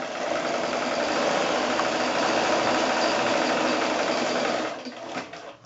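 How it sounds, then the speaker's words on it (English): A sewing machine runs steadily, stitching a quarter-inch seam through quilting fabric pieces placed right sides together under a quarter-inch presser foot. The motor whirs loud and continuous for almost five seconds, then stops abruptly. "I've got a 1/4 inch foot on my machine, and I'm going to just sew my 1/4 inch seam."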